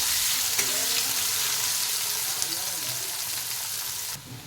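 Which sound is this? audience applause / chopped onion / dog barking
chopped onion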